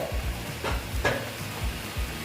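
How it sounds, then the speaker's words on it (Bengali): Spicy tangra fish curry gravy bubbles at a rolling boil in a pan, with soft, rhythmic popping and simmering heard up close and fairly quiet. "দেখো বন্ধুরা ঝোলটা আমার ফুটে উঠেছে"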